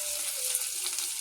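Curry leaves, rampe, garlic and a bay leaf fry in a little oil for pork stew, a steady close hissing sizzle with no pauses and no talk.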